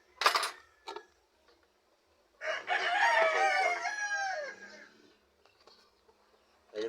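Farmyard chickens crow loudly for a couple of seconds after a few short clucks and squawks, close by, with no voices.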